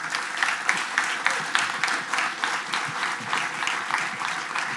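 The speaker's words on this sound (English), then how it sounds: "Will you please give Nikolay a great applause?" A live audience at a business talk breaks into steady applause, dense overlapping claps filling the room without pause for the whole stretch, loud and close with a slight crowd murmur beneath.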